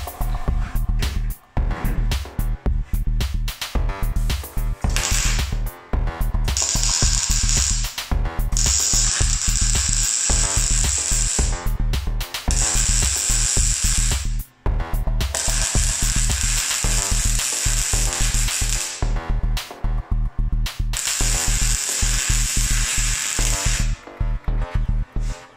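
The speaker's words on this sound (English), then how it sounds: "gonna weld the vise straight to the bench" Steel vise being welded straight onto a tool box in a garage: a loud, steady crackling sizzle in long bursts, broken by a few brief pauses, with no talking.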